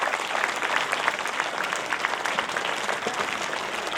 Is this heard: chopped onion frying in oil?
no